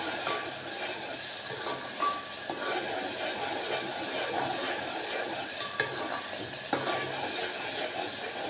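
Spice paste for Kathiyawadi-style veg yakhni pulao sautéing in a pan, a steady close sizzle with occasional stirring scrapes, heard alone without talk.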